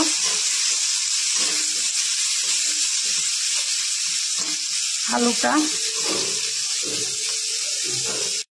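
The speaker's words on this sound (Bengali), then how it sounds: "ওই তেলের মধ্যে জিরে ফোড়ন দিলাম, লঙ্কা 4-5টা, আলু দিয়ে দিলাম গোটা গোটা করে কেটে। ভালো করে ভেজে নেব।" Cut potato pieces frying in oil with cumin seeds and green chillies, a loud continuous sizzle with brief clatters of stirring, close up and without talk.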